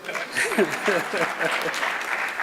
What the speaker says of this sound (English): I think you should clap for me.